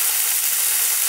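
Ham for gimbap fries in a pan over low heat, giving a steady, close sizzle with no voices.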